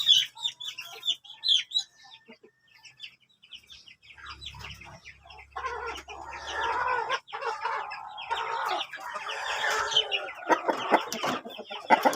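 Cobra native chickens cluck and squawk in bursts, with one bird calling alone at first and then several clucking together in a busier, louder stretch. A low hum runs briefly in the middle.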